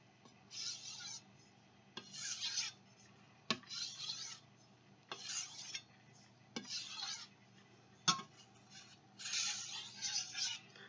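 A knife blade is stroked across King 1000 and 6000 whetstones in a steady rhythm of about seven rasping passes, each broken by a sharp tap, quiet and close, with no talk.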